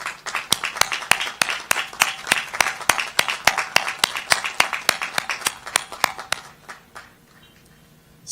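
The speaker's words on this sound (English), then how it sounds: "let's give them and those who are watching online a big round of applause" Rhythmic, fairly sparse clapping from a commencement audience honoring family and friends, steady claps at a quick pace that fade out near the end, leaving near quiet.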